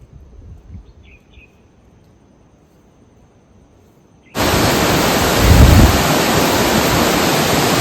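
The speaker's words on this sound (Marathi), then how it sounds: "तर मित्रांनो ही निंबेरा नदी" A Nimbera river in flood during heavy monsoon rain in Konkan breaks in abruptly after a quiet stretch, becoming a loud, steady roar of rushing water that fills the rest of the clip.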